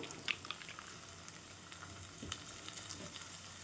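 Cowpea pods frying in hot oil with potato for an aloo chawli curry, a steady soft sizzle with faint stirring clicks, quiet and continuous with no voices.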